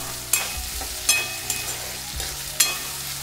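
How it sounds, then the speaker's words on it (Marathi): Potato pieces fry in a pan over a medium gas flame, giving a steady sizzle broken by several sharp stirring scrapes at irregular intervals. "बटाटा टाकल्यानंतर आपल्याला एक 5 मिनिटाकरता गॅस मिडियम ठेवून तळून घ्यायचे."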